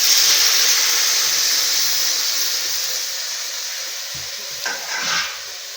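Brinjal curry simmers in a pan with cooking aubergine pieces, giving a steady close sizzling hiss that slowly fades, with a few soft stirring scrapes near the end.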